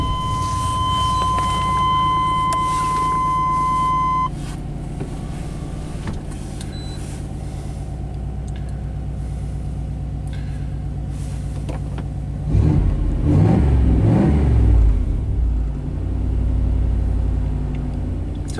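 A classic Chevy truck sits with a steady low engine idle and a high electronic tone for the first few seconds, then the engine revs loudly in a rising burst near the end before settling back to idle.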